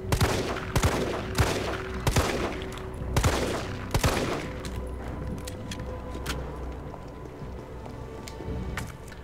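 Gunfire in Resident Evil 3 Remake, a run of loud, close shots spaced roughly every second for about four seconds, then quieter ambience with faint clicks and softer thuds.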